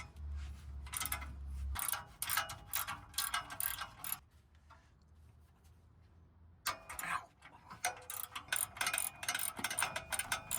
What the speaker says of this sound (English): Using a 14mm box wrench and a 14mm socket wrench, I will remove the three bolts on the back of the catalytic converter.